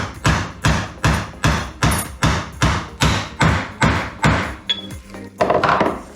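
A tapered Timken wheel bearing is tapped into a Classic Mini hub with around a dozen loud, evenly spaced hammer blows until it seats, the last strikes sounding different in tone.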